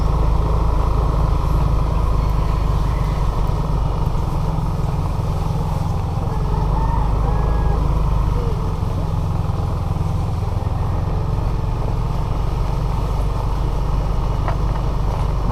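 A motorcycle rides along a rough, potholed, muddy road on the way to Dinahican Beach, its engine droning steadily and loudly throughout with constant low rumble and no pauses.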